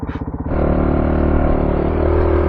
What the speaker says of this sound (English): Here comes Trav, the MVP of the trip on his big bike